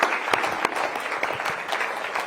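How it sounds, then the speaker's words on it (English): Rotary club audience in Spokane clapping for debate participants after a discussion on taxation and public safety, a steady close burst of many hands with scattered sharper claps. "let's give them a round of applause"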